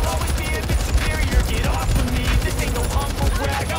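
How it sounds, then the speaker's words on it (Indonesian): Sustained automatic gunfire from a machine gun in the zombie shooter game World War Z, set in Tokyo, with rapid continuous bursts dense and loud throughout, mixed with game effects. "Machine gun."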